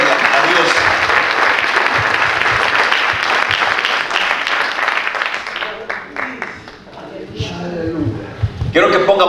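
Church congregation applause during a Spanish-language worship service: dense, loud clapping that thins out and fades after several seconds, with voices speaking and calling out as it dies away.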